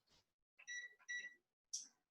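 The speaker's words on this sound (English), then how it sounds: "Now I'm going to set the timer for about 35 minutes." Oven timer being set in a kitchen, giving a few short electronic beeps in separate bursts, close and fairly quiet.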